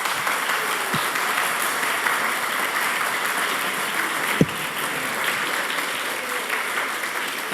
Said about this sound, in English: Please welcome back with a round of applause